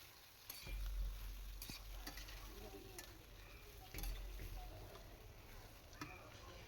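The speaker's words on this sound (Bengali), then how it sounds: "তো বেগুনগুলি আমি এইভাবে ভেজে নিব।" Eggplant pieces fry in hot oil for a pickle, giving a steady close sizzle with bursts of stirring and utensil scraping near one and four seconds, and no one speaks.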